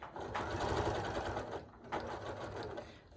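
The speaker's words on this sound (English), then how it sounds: "I'm going to make a 1/4 inch seam and just pull it around as I go" A sewing machine stitches a quarter-inch quilt seam on a Christmas ornament quilt block, running in steady close whirring bursts with a short pause between, fairly quiet and with no talking.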